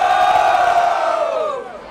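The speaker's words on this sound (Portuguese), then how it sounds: "barulho para as rimas do Mota" Crowd cheering and shouting loudly at a rap battle in Barueri, a dense roar of voices sustained for about two seconds and then trailing off.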